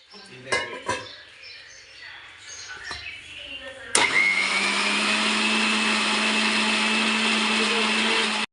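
A mixer grinder starts up abruptly after some quiet clatter and runs steadily with a loud, constant whine and hum to the end.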